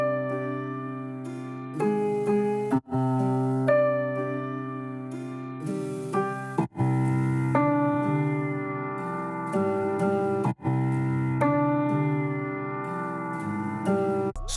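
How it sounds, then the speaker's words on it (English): Keys sample from Kontakt playing sustained chords in phrases, clean and up front, with brief cuts between sections and no voices. "So the first thing that I added were these keys from Contact."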